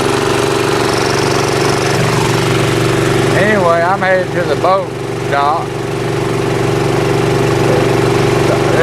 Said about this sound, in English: A little 5 horsepower motor doing the trick.